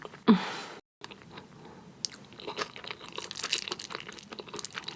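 Close-up wet chewing and crunching of spicy marinated raw crab and rice wrapped in crisp seaweed, soft smacking bites repeating steadily after a brief silent gap, no talking.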